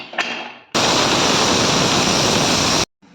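A pressure cooker with its weight on, cooking minced meat curry, lets out one loud, steady hiss of steam lasting about two seconds, then stops abruptly; faint kitchen noise comes before it.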